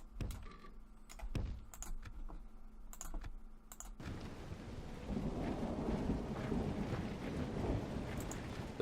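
Rain and thunder ambience in the video game Divide & Conquer, rising after a few seconds into a dense, steady wash of rain with a deep rumble, preceded by quick keyboard clicks.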